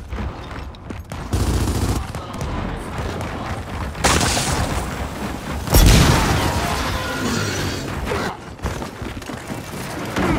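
A grenade blast in Gears of War 4 online play on Xbox Live: a sudden heavy boom bursts out amid constant loud gunfire and battle noise, dense and continuous.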